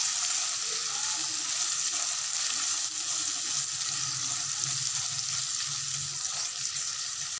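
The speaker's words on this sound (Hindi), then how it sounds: "इसके अंदर हम डाल देंगे चिकन, इसको फ्राई करेंगे हम" Chicken pieces fry in a pan with a spice paste, giving a steady, dense sizzle that holds at an even level throughout, close and continuous with no voices.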